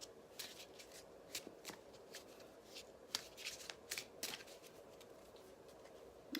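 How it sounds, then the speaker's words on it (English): A deck of tarot cards is shuffled by hand at close range, quiet riffling and soft flicking in irregular bursts over a faint background hiss, with no talking. "I'll pull a few more cards."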